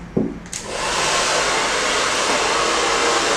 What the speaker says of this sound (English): You have your blow dryer on full force, but always use the cool button just to seal the hair.